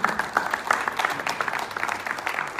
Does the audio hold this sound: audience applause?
yes